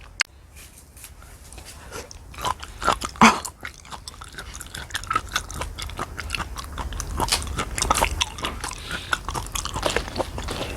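Raw flounder sashimi is chewed close to the mouth, giving wet, soft crunching and smacking bites that repeat unevenly and build toward a steady mastication sound with no talking.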